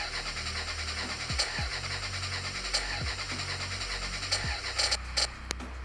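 A car engine in the Car Parking Multiplayer video game cranks repeatedly and fails to start, several short whirring starter attempts in a row over a steady low game hum, with no talk.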